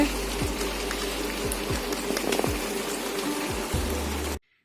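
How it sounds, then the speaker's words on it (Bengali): Steady rain pours down, a dense hiss of drops on surfaces with a few low thumps, continuous until it cuts off abruptly near the end. "এখন জোরে জোরে বৃষ্টি হচ্ছে"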